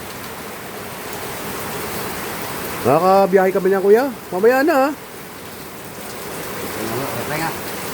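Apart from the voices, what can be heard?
heavy rain falling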